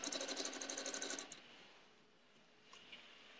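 A sewing machine runs a quick burst while stitching log cabin quilt blocks, then stops, leaving quiet room tone with a couple of faint clicks.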